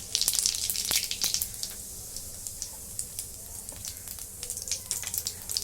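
Cumin seeds sizzling in a generous amount of hot oil in a kadhai, a steady soft frying crackle with sharp pops that are densest at the start, then settle into a quieter, continuous sizzle.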